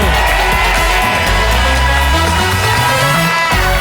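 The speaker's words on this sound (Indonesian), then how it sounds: "Tepuk tangan untuk mereka berdua nih." A studio audience at a game show claps and cheers loudly and steadily. Dense applause and whoops fill the room, with music running underneath.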